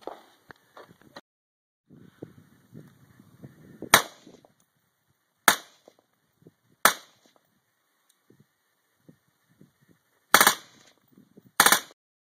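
A semi-automatic rifle fitted with a Double Zero suppressor fires at an outdoor range, about six sharp, loud, muffled cracks, single or in quick pairs, with gaps of handling noise between them.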